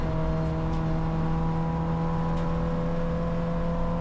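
A Peugeot 405 Mi16 BTCC replica race car running on a circuit, a steady loud droning engine tone held close and even, with faint higher whirs drifting through.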